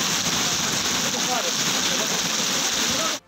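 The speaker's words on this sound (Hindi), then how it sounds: "जियारत में बारिश की झड़ी लग गई।" Heavy downpour in Ziarat, Balochistan, a dense steady hiss of rain falling close and loud before cutting off abruptly at the end.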